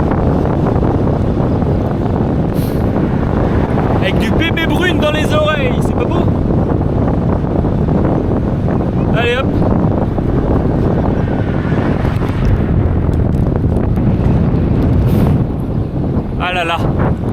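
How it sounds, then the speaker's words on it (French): Wind buffets the microphone during a long-distance bike ride in the Bavarian Pre-Alps, a loud, unbroken roaring rumble, with someone talking briefly over it. "Et t'entends sûrement rien, il y a du vent."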